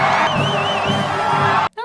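Film crowd in Spider-Man 3 cheers and whoops as a dense, loud roar with shouted voices, then cuts off abruptly near the end.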